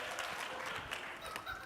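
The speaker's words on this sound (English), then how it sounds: "That's the kind of applause I'm looking for." Audience applause at a business analyst keynote, a dense, even patter of many hands clapping heard at a moderate distance.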